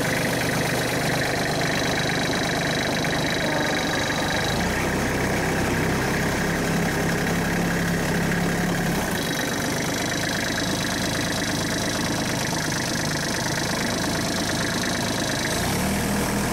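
A tractor engine runs at a steady idle, a close, continuous mid-low rumble with a slight knocking texture and small shifts in tone, with no talking.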